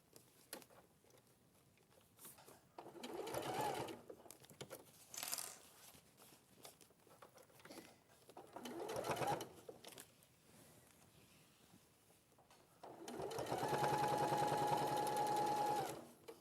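A sewing machine stitches with ordinary thread and a normal needle in short quiet bursts, then one longer steady run of rapid stitching near the end, faint and close.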